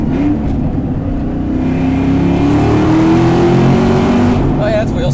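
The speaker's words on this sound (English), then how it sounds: "If you put it in second, it's bananas fast. This is going to be real loud." A 2004 Mustang Cobra engine revs hard in second gear, a loud, close roar that climbs steadily in pitch as the car pulls through a tunnel, with an occasional voice underneath.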